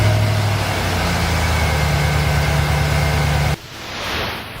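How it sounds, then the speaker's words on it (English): A full-size pickup truck engine runs loud and steady in a low idle, then cuts off abruptly, leaving quieter background sound, with no talking. "Next, we'll start this full-size pickup with the battery completely disconnected."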